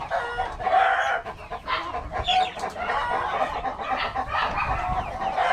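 Rhode Island Red chickens, some about two to three months old, cluck and squawk in a breeder's coop, a busy, overlapping chorus of close calls with a rooster-like crow rising among them.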